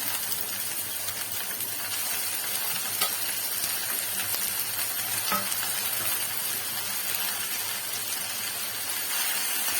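Chopped, washed drumstick leaves hit a hot pan and fry with a loud, continuous sizzle and hiss that holds steady throughout, close by with no talk.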